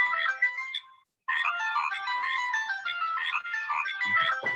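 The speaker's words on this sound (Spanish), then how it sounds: "perdón, es que me está sonando el teléfono" Telephone ringing with a melodic electronic tone, a repeating tune that stops for a brief pause and then resumes, clear and fairly close with no talk over it.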